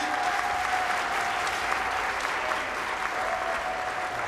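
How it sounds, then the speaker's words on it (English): Sustained crowd applause from a seated audience standing to honor a Cameroonian football figure, steady and full throughout with a faint tonal hum underneath. "venez vous lever, applaudissez pour lui."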